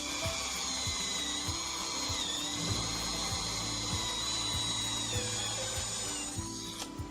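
A power drill bores holes through the outer plate of the right rear door on a Volkswagen Caddy, giving a steady, loud, continuous whine that roughens and sputters just before it stops near the end.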